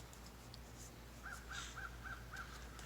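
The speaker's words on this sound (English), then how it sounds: "A lot of birds out here talking." Crows caw outdoors in a run of five evenly spaced calls at a middle distance, fairly faint over a low steady hum, with a few other faint bird chirps scattered before them.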